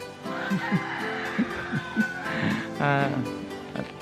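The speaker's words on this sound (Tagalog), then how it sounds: "Pasensya na kung medyo maingay dito kasi yun nga, ang dami nilang manok sa kabila." Chickens cluck repeatedly nearby in short, uneven bursts, with a rooster-like call rising briefly among them.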